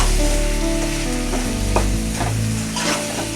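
Pumpkin from a home garden being stirred and sautéed into a curry in a pan, a steady close sizzle with scraping spoon strokes at intervals, loud and continuous.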